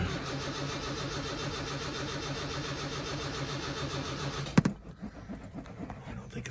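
A Plymouth Cricket's engine cranks with a steady, rapid rhythmic churning for several seconds without catching, then cuts off with a clunk, leaving faint knocks.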